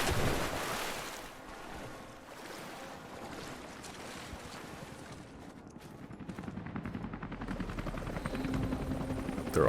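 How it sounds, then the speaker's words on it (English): A helicopter in a 2015 video game makes a steady, whooshing rotor roar with no talk over it, growing louder toward the end. "There are also helicopters, and maybe a Hind-D."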